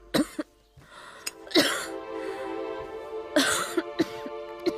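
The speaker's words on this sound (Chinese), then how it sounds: "姐姐咳嗽得如此厉害" A woman coughs in several harsh, spaced bursts, close and fairly loud, with a rasping, throat-clearing quality and quiet pauses between fits.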